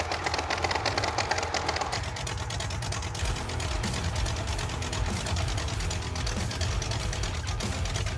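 A steady car engine labors as it drives up a steep hill, a continuous rough low drone with a rattling, ticking texture and no voices.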